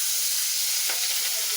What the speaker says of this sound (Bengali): মাছ ভাজতেছি, মাছ ভাজি করতেছে